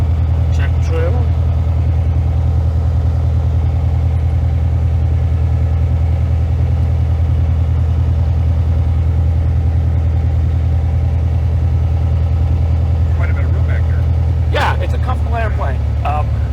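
A small airplane's piston engine runs at a steady low drone while taxiing to the runway, constant and close throughout, with people talking briefly over it.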